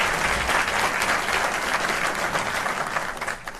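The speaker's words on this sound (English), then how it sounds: "Let's give them a big round of applause." Audience applause at a community college ceremony honoring a troop, a choir and the National Guard, a dense, steady wash of clapping hands that holds strong throughout and thins slightly near the end.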